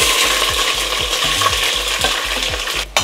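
Onions tipped into hot oil for mutton biryani, loud and close, with a steady sizzle and a rhythmic scrape of stirring repeating every fraction of a second, ending in a sharp clatter.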